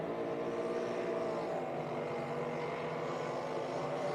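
A drag boat engine spools up at an outdoor drag boat racing event, heard as a faint, distant steady droning roar that holds throughout.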